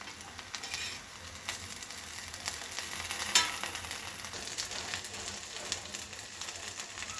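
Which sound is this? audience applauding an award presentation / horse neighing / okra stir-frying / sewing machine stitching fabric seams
okra stir-frying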